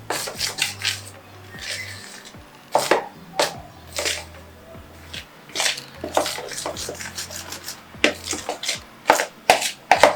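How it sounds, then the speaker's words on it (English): Flour and baking powder being stirred in a bowl give repeated close scraping, rubbing strokes, some sharp clinks of utensil against the bowl, over a faint low hum. "I'll just mix up the flour just to make sure that the baking powder is properly mixed"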